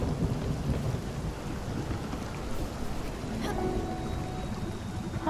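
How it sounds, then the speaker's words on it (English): Thunderstorm in the video game Spiritfarer, heavy steady rain with low rolling thunder rumbling throughout, no talk. "Oh, it's just thunder."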